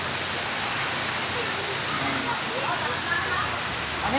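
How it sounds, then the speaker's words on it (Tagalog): Water pouring at Dinanglungan Falls, a dense steady rushing roar heard from a short distance, continuous and fairly loud, with faint voices in the background. "nandito kami ngayon sa Dinanglungan Falls. Yan, may falls doon sa baba"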